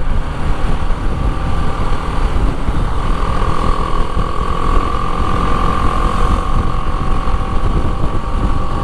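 BMW G310 GS motorcycle engine running steadily in sixth gear while riding through town, a continuous loud drone with wind rush and no talk.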